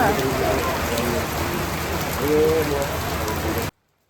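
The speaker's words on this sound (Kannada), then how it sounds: "ಮಳೆ ಬರಾದತಿ" Steady rain pattering on a surface, dense and close, with a faint voice under it before it cuts off abruptly.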